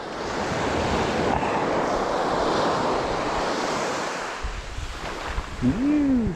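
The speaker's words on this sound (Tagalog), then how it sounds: "Pahuhugutin muna natin yung alon. Yan, saka tayo ahagis." Ocean waves wash ashore at a fishing spot, a steady close roar of surf with wind buffeting the microphone, and a brief whistling tone near the end.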